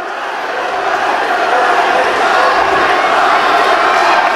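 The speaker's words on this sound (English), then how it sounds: "The crowd are going crazy" A crowd roars and cheers at an MMA fight in the Reps Retribution 5 event, a loud, sustained wall of shouting that swells slightly toward the end, with no distinct speech.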